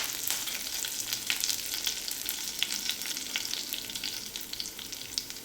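Chopped garlic and curry leaves sizzle and crackle in hot oil for a tempering, a steady dense frying hiss with scattered sharp pops, fairly quiet and close.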